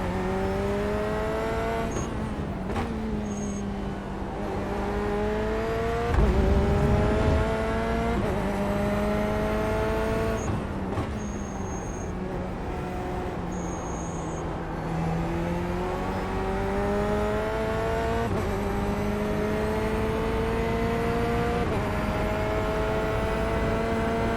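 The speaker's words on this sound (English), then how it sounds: "this is the Corvette C8 in iRacing at Brands Hatch" A Corvette C8 race car lapping Brands Hatch in the iRacing sim: a steady engine note rising and falling through repeated upshifts and downshifts, with faint tire squeal, and no talking.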